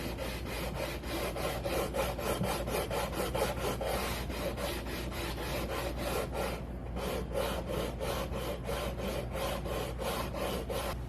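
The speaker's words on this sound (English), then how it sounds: "most of the sanding is taking place right now" A Gretsch Super Axe guitar fingerboard is sanded with a radius block, making a steady, continuous rhythmic rasp of back-and-forth strokes, close and even throughout, with no voices.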